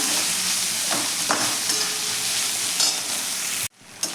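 Fresh ginger garlic paste sautéing in a pan for a soybean pulao, a steady loud sizzle with occasional stirring scrapes, then a sudden drop as the sizzle briefly cuts off near the end.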